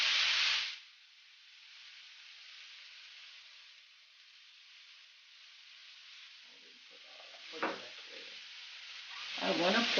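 Sliced zucchini and mushrooms with a pinch of chili sizzle faintly in a pan, a soft steady hiss running throughout, with a louder scrape of stirring near the end.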